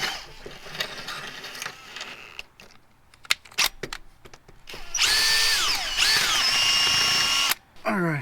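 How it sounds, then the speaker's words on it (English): A power drill whirs in two long, loud bursts with steady pitch sweeps as it cleans bed-liner-clogged bolt threads on a 2nd-gen Toyota Tundra, with quieter tool clicks and handling noise before it. "So I'm just gonna take a drill and just try and clean that up a little bit."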